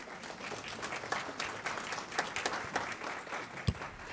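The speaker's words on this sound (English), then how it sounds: "Let's give her a round of applause." A school board meeting audience applauds a student leader, a steady patter of many hands clapping at moderate distance for about four seconds, with a few louder individual claps standing out.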